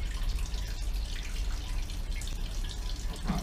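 Juice pressed from a Sangiovese red grape ferment in a basket press drips and trickles faintly and unevenly into a vessel, with soft splashes and a low background hum.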